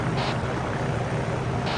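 Helicopter cabin noise inside ArmA 3, a steady, dense rotor and engine roar filling the whole clip at close range with no pauses and no voices.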